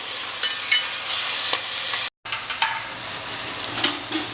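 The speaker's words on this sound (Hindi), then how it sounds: "अब इसमें हम ये टमाटर मिलाएंगे। इन्हें तेज करके 2-3 मिनट के लिए बढ़िया फ्राई कर लेंगे।" Tomatoes frying on high heat with golden-brown onions for a mutton boti masala, a continuous bright sizzle with scattered spatula scrapes and taps throughout, close and steady.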